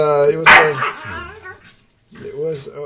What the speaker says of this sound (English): Oh, fucking God, you fucking dogs.